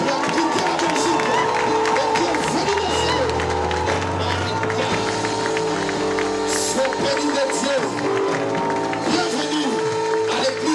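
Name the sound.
church congregation cheering and applauding a welcomed prophetess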